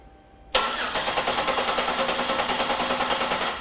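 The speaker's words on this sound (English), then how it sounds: "So why don't you go ahead and crank it over, Mark" A car engine cranks over with a sudden loud start of rhythmic chugging starter pulses, close and steady, continuing through to the end without speech.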